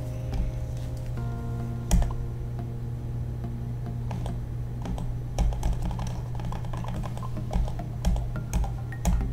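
Rapid plastic clicks and taps from a computer mouse and keyboard come in irregular bursts over a constant low electrical hum, close and fairly crisp, with no talking.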